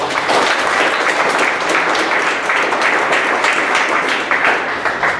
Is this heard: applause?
yes